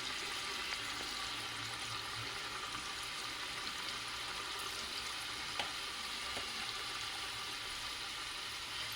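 Uppu seedai dough frying in hot oil over a low gas flame, a dense, steady crackling sizzle with faint stirring, close and continuous throughout.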